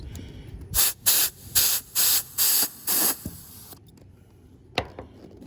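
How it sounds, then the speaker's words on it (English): A hand or foot pump pushes air into a garden wagon's inner tube in six steady, evenly spaced hissing strokes, close and fairly loud, followed by a short pause and one last sharp puff. "We're going to pump it up."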